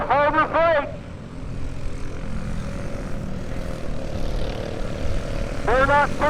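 Racing karts with stock Harbor Freight Predator engines buzz around a dirt track at a season-opener race, a steady engine drone with louder passes near the start and end.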